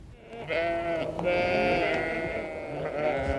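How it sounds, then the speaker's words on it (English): Sheep bleating in a grassy British field, with several long, wavering calls that overlap one after another, close and fairly loud. "It's a classic British image, sheep grazing in a lush field of green."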